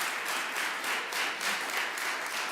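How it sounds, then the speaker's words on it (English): An audience at a public health month kickoff event gives a steady round of applause, dense, even clapping sustained throughout without any voices. "Can we give our 22-year-old songwriter and public health activist another round of applause?"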